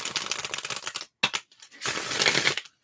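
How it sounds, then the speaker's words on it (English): Tarot cards being shuffled in a quiet ASMR setting: two bursts of dense, crisp riffling flutter with a brief slap between them, close and fairly soft, no talking. "I'm just going to give the cards a bit of a shuffle."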